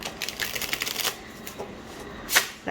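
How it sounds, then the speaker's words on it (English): A thin-stock tarot deck riffle shuffled by hand, a fast fluttering burst of card flicks lasting about a second, then a few soft taps and a sharp snap of cards settling, close up and quiet. "I'll do that one more time just to show that I actually know how to shuffle"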